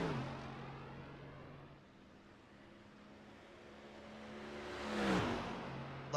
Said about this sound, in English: Love that sound of that Mercedes.